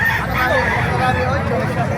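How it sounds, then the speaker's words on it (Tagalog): Many chickens cluck and squawk in a dense, noisy chorus at a poultry market in Calumpit, Bulacan, with crowd babble and busy market bustle around them. "Pakita ko sa inyo mga manok sa Kalupit."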